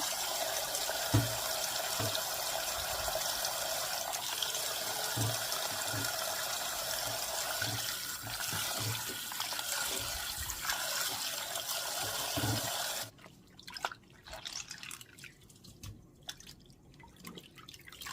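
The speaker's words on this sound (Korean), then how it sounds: "요거를 막걸리는 버리고 물에 헹궈 주실 겁니다" Fermented skate, soaked a day in makgeolli, gets rinsed in water: a steady broadband wash of running, splashing water with small drips for about thirteen seconds, then it cuts out, leaving scattered faint clinks and sloshes.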